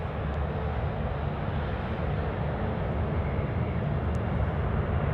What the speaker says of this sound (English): Let's enjoy this takeoff.